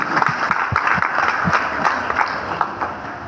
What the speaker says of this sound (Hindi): बबलू सर के लिए एक जोरदार धमाकेदार तालियां होनी चाहिए